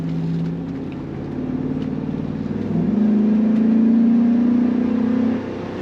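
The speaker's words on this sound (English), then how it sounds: "kicking down the automatic transmission" A 2004 Chevrolet SSR pickup accelerates on the road as its automatic transmission kicks down, the engine note rising in pitch and swelling louder into a sustained strained drone before easing off.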